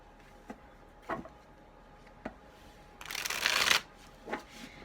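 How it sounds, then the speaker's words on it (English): A tarot deck being shuffled by hand: a few soft riffles and taps, then a dense, loud burst of card flutter lasting about a second, followed by another light tap, close and with no voice. "As always, I shuffle live."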